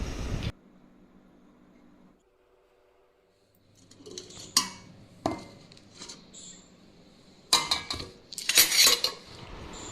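Cooked rice is served onto a plate beside chicken kosha, with metal cutlery scraping and clinking against the dish in a quiet room, a few sharp clinks clustered in the later part.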